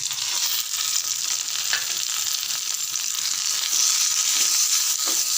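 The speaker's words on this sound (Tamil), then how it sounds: "இந்த இஞ்சி, பூண்டு, பச்சை மிளகாய், வெங்காயம் எல்லாம் கொஞ்சம் வதங்கட்டும்." Mint, ginger, garlic, green chili and onion sautéing in a pan for mint chutney, a loud, continuous close-up sizzle with occasional stirring scrapes.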